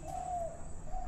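Soft, close cooing from a pair of pigeons, a mottled male and a spotted one with a chick nearby, heard as a faint low drawn-out call repeated twice with a brief gap.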